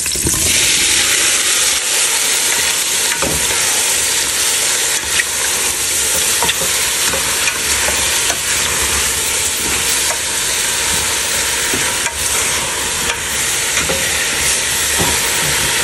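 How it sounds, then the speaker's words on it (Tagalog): Beef sizzles loudly in hot oil with sautéed garlic and onion in a pan, a constant close frying hiss broken by occasional scraping stirs, with no talk. "Pagkabango ng ating bawang at saka sibuyas, lagay natin yung ating beef."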